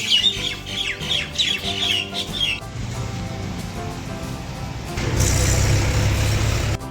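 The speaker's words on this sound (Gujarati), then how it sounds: "કાબરો આવી ગઈ." Common mynas calling in a chattering burst of squawky, whistling notes over the first couple of seconds, followed by steady outdoor rumble that swells louder toward the end.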